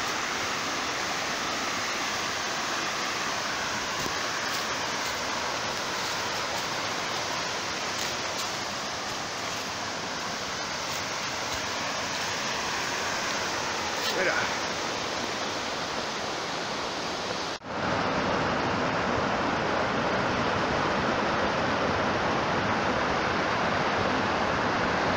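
River flowing through forest near Matsini on the Georgia–Azerbaijan border: a constant broadband rush of water, loud and unbroken, whose tone shifts abruptly near the end as if the listening position changes.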